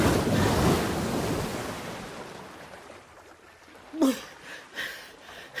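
Huge surf and strong wind in a violent storm at sea, a heavy roaring wash that swells and then fades, followed by a few sharper splashing bursts near the end.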